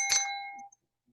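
A single bright notification bell ding rings out clearly and decays over about half a second, followed by near silence.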